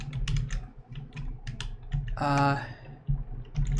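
Computer keyboard typing while playing Oxygen Not Included, rapid clicky keystrokes in an uneven stream under a man's speech, with a short burst of other game sound in the middle.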